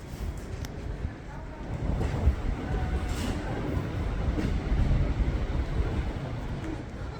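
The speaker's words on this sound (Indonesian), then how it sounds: "Ini suasana di stasiun Utrecht." Busy Utrecht train station ambience in the Netherlands: a low rumble of rail traffic and machinery with scattered clanks and faint voices in the background.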